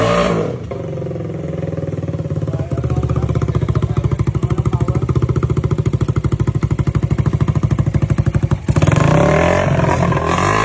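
A Raider motorcycle engine revs up close and loud, holding a steady rapid throbbing beat for several seconds before easing off, then returning at a rougher idle.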